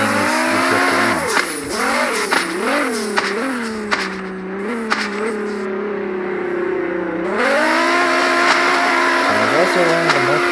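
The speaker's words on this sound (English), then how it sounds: "As the name suggests, the main thing is you drift around." A drifting car in the Prodigy Drift video game, its engine revving in long rising and falling sweeps with tire squeal, loud and continuous throughout.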